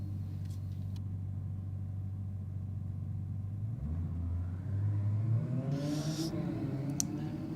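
A Lamborghini launches down the strip at a Sydney Dragway drag race. Its engine rumbles low and steady, then climbs and revs as it pulls away, heard from a distance.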